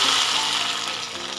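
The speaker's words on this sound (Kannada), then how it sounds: "ನೋಡಿ ನಾವು ಮಾಡಿಟ್ಕೊಂಡಿರೋ ಒಗ್ಗರಣೆಯನ್ನು ನಾವು ಈಗ ಸಾಂಬಾರಲ್ಲಿ ಸೇರಿಸ್ಕೊಳ್ಳೋಣ." Hot tempering of mustard seeds, Byadagi chilli and curry leaves is poured into cucumber sambar, making a burst of hissing sizzle that fades slightly over a second or so, with no talking.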